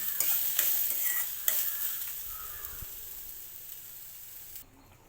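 Ash gourd peel thoran being stirred in a pan, with scraping strokes over a sizzle that is loud at first, then fades to a quieter hiss near the end.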